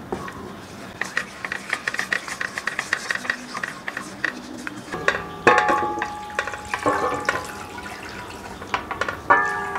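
Water poured gradually into an instant coffee and flavored gelatin powder mixture while it is stirred, giving soft splashing, clinking and scraping in an irregular rhythm, close and fairly quiet.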